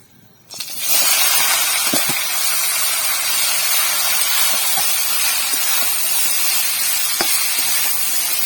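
Hot oil tempering with dried chilli and cumin poured into a pan of pumpkin greens and stalks, erupting in a loud, steady sizzle that holds evenly for several seconds with a few faint clinks.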